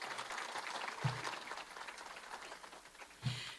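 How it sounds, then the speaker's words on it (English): A banquet audience at a memorial event gives a last round of applause for the sponsors, soft and fairly distant clapping that continues throughout, with a couple of brief louder thumps. "One last round of applause."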